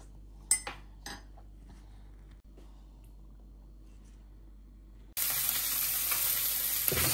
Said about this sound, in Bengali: এই যে এখন মাছটি ভেজে নিতেছি